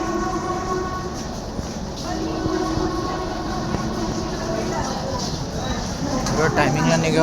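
A local train at a Mumbai-area suburban station platform, a steady rumbling drone with tonal squeals and clatter, close and loud, while a voice talks over it.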